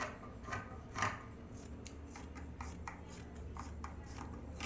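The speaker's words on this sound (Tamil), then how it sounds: "இப்போ இதை நம்ம கட் பண்ணிக்கலாம்." Scissors cut through blouse lining fabric in a series of short, quiet snips and rasping strokes with no talking.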